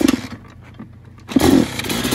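A snowmobile engine idles while warming up, a rough buzzing drone that dips quieter in the middle and then swells louder near the end.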